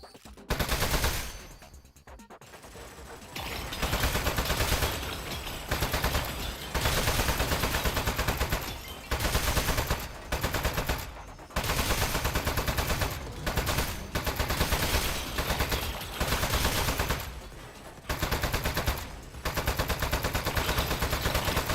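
A turret in the video game Aperture Desk Job fires long, loud automatic bursts of rapid gunfire, separated by short pauses and repeating over and over.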